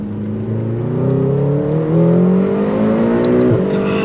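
A 2021 McLaren GT supercar pulls hard under throttle, its engine note climbing steadily in pitch and loudness from inside the cabin, with a brief dip near the end, and no talk over it.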